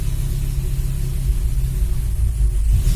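A cold 2000 VW Golf 4 1.6 AKL engine idles unevenly, its loud, close low rumble wavering and pulsing without a steady rhythm.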